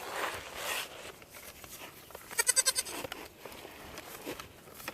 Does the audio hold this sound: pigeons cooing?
no